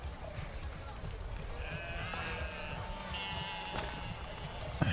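Sheep bleat in the medieval city-building game Manor Lords, a few short cries over busy game ambience with faint hoof clops and clatter.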